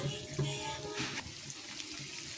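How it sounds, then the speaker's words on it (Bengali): Water pours or runs from a tap in a quiet, steady trickle with small splashes, faint and close. "দেখুন এবার দিয়ে দেবো একটু জল"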